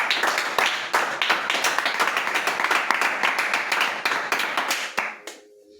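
Congregation in a French-language church service applauds together, a dense, steady crowd clapping that holds loud and even throughout before fading out at the very end.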